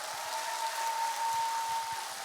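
Audience at a church concert claps in a dense, steady wash of applause that holds evenly from start to finish.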